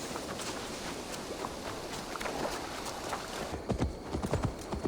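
Steady clip-clop of a horse's hooves at a walking pace in the video game Assassin's Creed Valhalla, fairly close, over a continuous rustling background, with a few heavier, sharper hoof strikes near the end.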